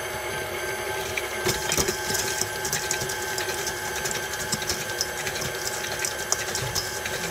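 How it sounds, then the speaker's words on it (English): Electric mixer beating granulated and packed brown sugar into batter, a steady loud mechanical whir and rattle that runs unbroken throughout with no talking. "I'm going to add the 2 sugars, a half a cup of granulated sugar and a half a cup of packed brown sugar."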